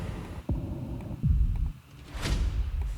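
A few deep, booming impact hits with rumbling tails, followed by a swelling whoosh, loud and close with no talking, used as effects in a progressive house track.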